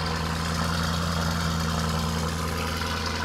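A Mansory Venatus Evo C build of the Lamborghini Urus, rated at 900 horsepower, idles with a loud, steady, deep rumble close by, holding an even drone throughout without revving or talking.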